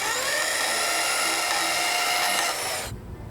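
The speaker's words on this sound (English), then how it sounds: "I'm going to use a portable bandsaw to rough cut it." A portable bandsaw rough-cuts through a car bumper with a steady high-pitched whine and rasp, running close and loud before stopping abruptly at the end.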